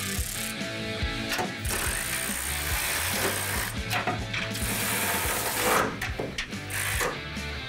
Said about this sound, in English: go ahead and tighten down your shackles and your leaf spring purchase